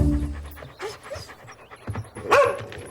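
A dog pants close by in quick rhythmic breaths, with faint whimpering and a brief sharper whine near the end, set against a quiet indoor room tone.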